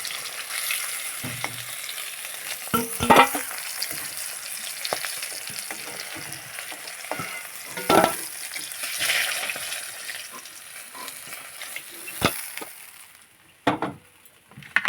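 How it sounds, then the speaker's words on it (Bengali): Oil sizzles and crackles steadily as pieces of fish fry in a pan, broken by occasional clinks and scrapes of stirring or turning, with no one speaking. "আর যে বাকি দু পিস মাছ ছিল সেগুলো ভেজে নেব"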